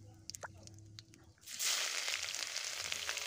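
Bay leaves and cumin dropped into hot oil, a few faint clicks and clatters followed by a steady, bright sizzle of frying that continues to the end.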